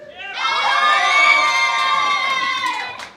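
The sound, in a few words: crowd clapping and cheering at robot combat event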